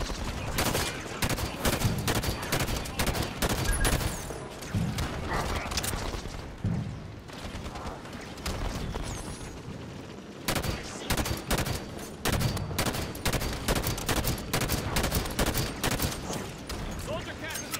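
Dense video-game firefight during an evacuation mission, with continuous bursts of rifle and machine-gun fire, rapid and loud throughout, with brief lulls and shouted voices mixed in.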